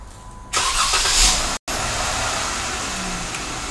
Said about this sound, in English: This will trigger the remote starter to start the vehicle.